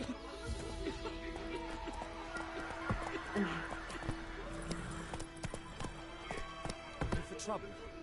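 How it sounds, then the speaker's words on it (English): Horses running in a PS4 video game, with a steady clip-clop of hooves and an occasional whinny, layered with other game ambience and a voice talking over the top. "Like these fucking horses running away"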